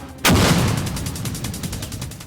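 Gunfire during an Indonesian army battalion combat team training exercise: one loud, close blast opens the clip, then a long rolling echo fades while a rapid pulsing of distant automatic fire continues beneath it.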